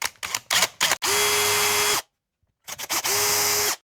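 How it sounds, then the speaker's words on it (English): A power drill whirs in two bursts, each about a second long, drilling pilot holes in guitar bridge posts, after a few short clicks and rattles, with a pause between them. "I'm just going to drill out me posts as a little pilot."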